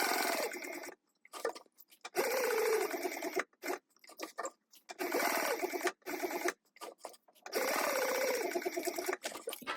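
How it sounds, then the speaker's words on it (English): A sewing machine runs in several bursts of a few seconds each, stitching a 1/4 inch seam on a wristlet, a rapid steady whirring chatter separated by short silent pauses. "Now we're going to go ahead and sew this together at a 1/4 inch seam allowance."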